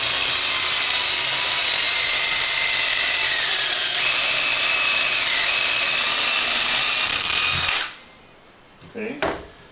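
A power drill bores a hole into a wooden cabinet door with a loud, steady high whine for about eight seconds, then stops, followed by a few brief handling sounds.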